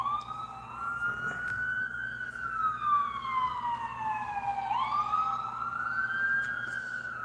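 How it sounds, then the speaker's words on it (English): An ambulance siren passes outside, wailing in long rising and falling sweeps with a sharp switch midway, loud and steady over faint traffic rumble, with no talking. "Nope, that was the ambulance."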